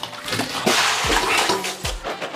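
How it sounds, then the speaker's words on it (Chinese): Cauliflower is rinsed by hand in a basin of water, giving close sloshing and splashing with a couple of low thumps as the florets are moved about. "象征性清洗干净"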